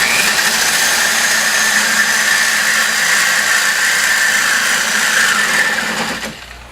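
A hole hog drill boring into 304 stainless steel, a loud continuous high-pitched grinding whine with a scratching edge, steady close up before winding down at the end, with no talking.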